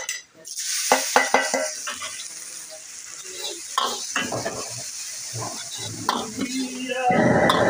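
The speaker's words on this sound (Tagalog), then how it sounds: "Ilagay ko na yung sibuyas sa kabawang." Onion, garlic and carrots sauté in oil in a pan for spaghetti, with a close, bright sizzle broken by repeated clinks and scrapes of a utensil stirring, growing louder toward the end.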